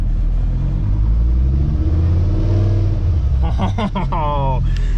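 A VR5 Savoy car engine runs in gear with the wheels not moving, a deep, steady low rumble close by, and a voice joins briefly near the end.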